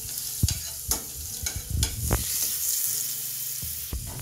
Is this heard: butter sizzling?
yes